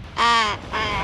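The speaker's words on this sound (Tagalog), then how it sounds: "napakabait ng uwak" Tame young crow, about four months old, cawing nearby: two loud harsh caws in quick succession, the first longer, with no talk over them.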